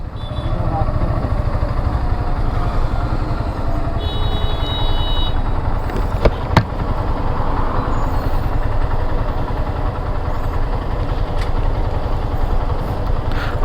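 Traffic jam heard from a Yamaha FZS V2 motorcycle, a continuous low rumble of idling engines from nearby bikes and vehicles, loud and close, with a brief horn and someone talking over it.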